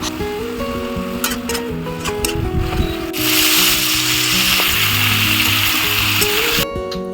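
Leafy greens (saag) cook in a pan on a home stove. A loud, steady sizzle starts partway through and holds, over faint background tones.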